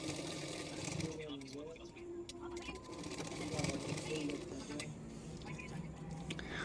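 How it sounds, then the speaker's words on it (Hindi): A sewing machine stitches the hook strip on the front of a blouse, a steady whirring run with small clicks while someone talks over it. "तो देखो फ्रंट साइड में भी मैंने इस तरह से सिलाई कर रही हूँ हुक पट्टी में।"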